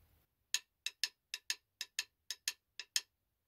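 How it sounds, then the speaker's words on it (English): Drum swing triplets for a shuffle groove, about a dozen crisp, bright hi-hat-like ticks in a lilting long-short rhythm, played alone and close. "I'm going to play swing triplets like you would for a shuffle groove."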